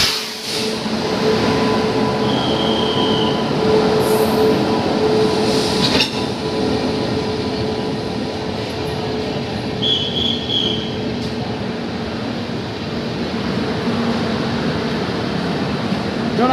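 A train rolls into a crowded Indian station during the Dussehra rush, its steady rumble and wheel clatter loud and near, with brief squeals and faint voices underneath.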